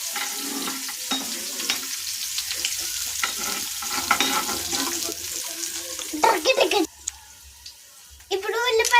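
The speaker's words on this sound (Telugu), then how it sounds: "ఇప్పుడు ఉల్లిపాయలు వేగిపోయినాయి." Onions frying in a pan make a continuous close sizzle with stirring scrapes. A voice is heard at times, and the sizzle briefly drops out near the end before returning.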